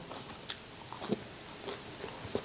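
Crisp bites and chewing of fresh raw vegetables eaten alongside an eggplant soup with grilled mackerel and roasted sesame, giving a few scattered close crunches with quiet pauses between them.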